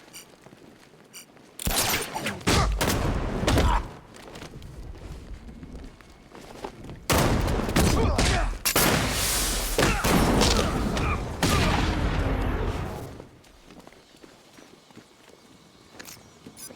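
Gunfire bursts in the video game Batman Arkham Knight come in several loud, dense clusters of rapid shots and impacts, separated by quieter gaps, with no voices over them.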